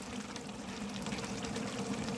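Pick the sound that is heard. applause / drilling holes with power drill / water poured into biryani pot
water poured into biryani pot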